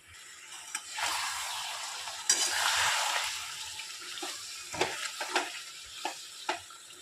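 Chicken kosha frying with tomato and coriander paste in a pan, a moderate sizzle swelling and fading, with scattered spoon scrapes and clinks close by and no voices.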